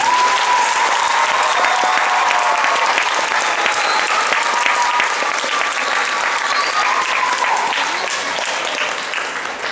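Continuous applause from a school spring concert audience for an award recipient, many hands clapping at a steady level with faint chatter beneath before tapering slightly at the end.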